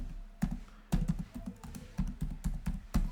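Quiet keystrokes on a computer keyboard come in short, uneven bursts, with clustered taps and small pauses between them, close and fairly soft.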